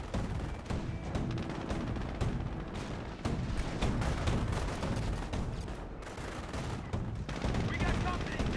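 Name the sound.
gunfire in the video game Company of Heroes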